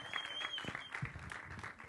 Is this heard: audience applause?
yes